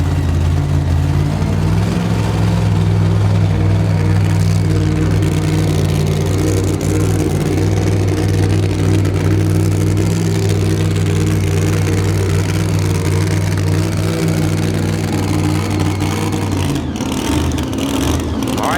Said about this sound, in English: Body comes down, motor is fired, and we are set to go.